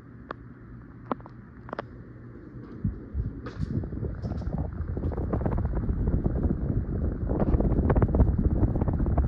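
A 1990 PaynPak ceiling fan with a contrast stack motor runs at high power, giving a steady rushing, wind-like whoosh of moving air that builds louder over the clip. A few faint clicks sound early on, and no one speaks.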